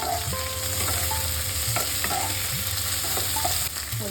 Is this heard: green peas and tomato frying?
yes